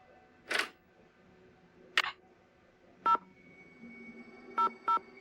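In the Nancy Drew game The Haunted Carousel, a phone is dialed: a few short clicks give way to separate touch-tone beeps, a quick pair of them near the end, all crisp against a quiet background.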